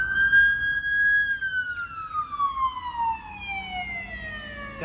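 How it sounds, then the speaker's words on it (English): An ambulance siren passes near a roundabout by a police station and courthouse, a loud steady tone that slides downward in pitch as the vehicle moves away, over faint traffic rumble. "there's ambulance"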